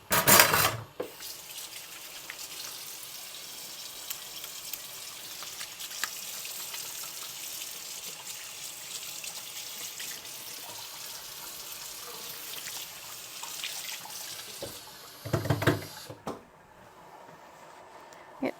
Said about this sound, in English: I'm going to wash my hands off really fast.